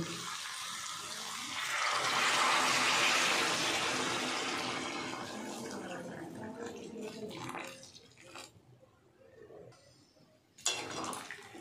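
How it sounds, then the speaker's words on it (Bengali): Hot water poured into a pot of cauliflower curry, a splashing, gurgling pour that swells for a few seconds then fades, followed by softer clinks and a sharp knock. "এবার আমি গরম জল দিয়ে দেব।"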